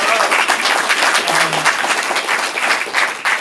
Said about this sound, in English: Give them a round of applause for putting themselves out there.